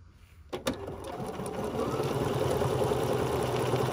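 A sewing machine starts with a couple of sharp clicks, then runs at a steady, rapid hum as it stitches through fabric backed with stabilizer for a butterfly basket, close and continuous.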